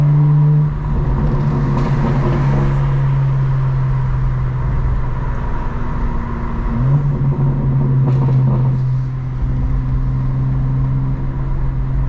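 A 2025 BMW M4 Competition xDrive, exhaust valves open and in rear-wheel-drive sport mode, rumbles and burbles loudly through city streets, a steady deep engine drone with a brief swell of revving midway.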